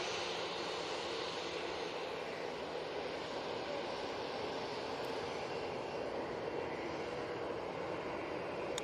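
A steady, loud jet roar from an EasyJet airliner taking off at Manchester Airport fills the whole stretch without a break, with no talk over it.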